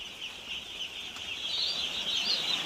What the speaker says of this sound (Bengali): এটা একটা পোলট্রির মুরগি, একটা কালো রঙের